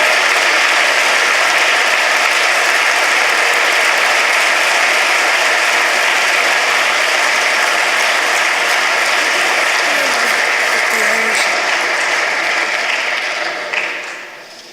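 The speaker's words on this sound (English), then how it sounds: "a big round of applause to all of our winners" A large audience at a prize-giving for the European Union Contest for Young Scientists 2011 applauds its winners with loud, dense, steady clapping that keeps going and then fades at the end.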